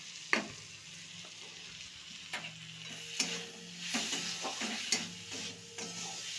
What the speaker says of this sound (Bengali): মশলা ভাজার সময়তেই একটুখানি নারকেল দিয়ে দেবো